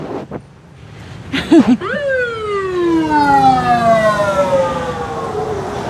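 Wailing sirens sweep downward and rise again, loud and continuous over street noise, with a brief clatter near the start.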